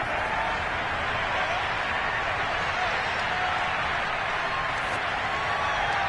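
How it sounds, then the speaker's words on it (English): A stadium crowd in the Madden 22 football video game, at a Packers versus Buccaneers simulation, makes a steady, dense roar that holds at the same level throughout without clear peaks. "You can already start to hear this crowd."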